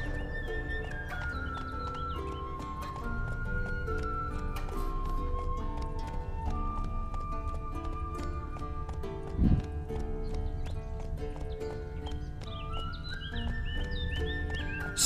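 Horse hooves clip-clopping at a steady trot in The Witcher 3 video game, moderately loud beneath a busy layer of game music.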